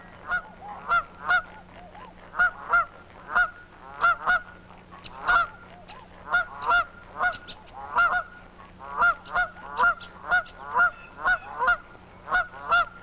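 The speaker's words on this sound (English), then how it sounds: "More sunlight from a different angle and more dusky geese." Dusky Canada geese honking repeatedly in a flock, a steady run of loud, nasal two-note calls overlapping close by, with a low constant hum beneath.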